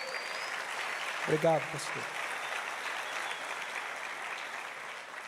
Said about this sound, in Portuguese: Você pode dar um aplauso ao Senhor pela vida desse casal?